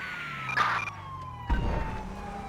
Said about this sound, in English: So we're not going to be able to shuffle our siren sound and stuff like that.